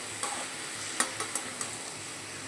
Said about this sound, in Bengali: এবার ওলের ডাঁটা দিয়ে বেশ ভালো করে কষাতে হবে।